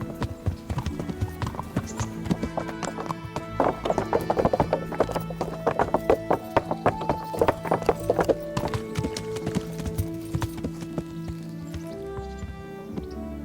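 Steady clip-clop of a video game horse's hooves at a walking rhythm, close and continuous, layered over game music with an occasional whinny.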